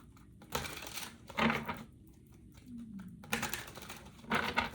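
Tarot cards are shuffled in short bursts, crisp riffling and flicking sounds coming close up in several quick rounds with brief pauses between.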